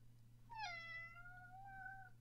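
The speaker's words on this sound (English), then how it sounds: "You can probably hear her meowing in my ear." A single drawn-out cat meow rises and then holds for well over a second, close and clear above a low steady electrical hum, with no one speaking.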